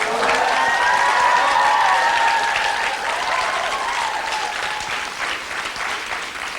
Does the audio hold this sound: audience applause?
yes